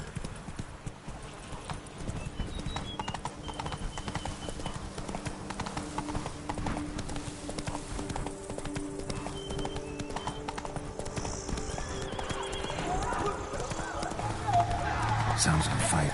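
A horse galloping in The Witcher 3, steady rapid hoofbeat clip-clop throughout with occasional neighing, while game voices speak over it.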